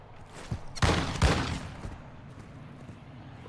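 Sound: gunfire in a video game

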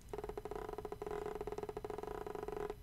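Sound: Steam Controller haptic feedback vibrating as finger moves over pad

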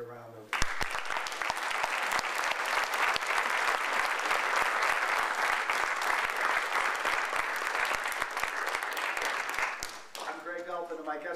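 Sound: audience applause

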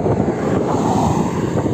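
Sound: wind buffeting a FIMI X8 Mini drone

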